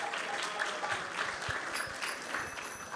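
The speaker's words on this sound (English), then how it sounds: "So let's give them a big round of applause as well." Sustained round of applause from an audience at a devotional gathering, a dense steady patter of many hands clapping continuously throughout, fairly close and even in loudness.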